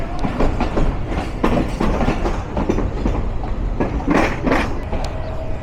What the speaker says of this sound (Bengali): Joydebpur commutator in Dhaka station.